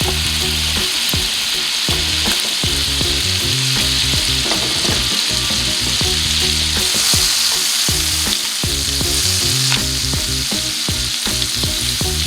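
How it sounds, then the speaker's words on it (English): Loud, continuous sizzling and crackling of butter frying in a hot pan, with occasional scrapes and clicks of stirring. "We want to just put our butter in there."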